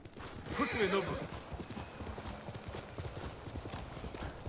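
A horse in the video game Ghost of Tsushima clops along with steady rhythmic hoofbeats, with a short whinny near the start, while someone talks over it.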